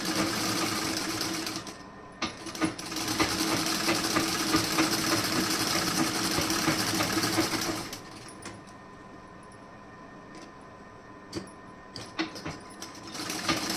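A sewing machine stitches a blouse belt, a fast, steady mechanical whir running close for several seconds, then dropping to quieter clicks and brief taps as it slows and stops.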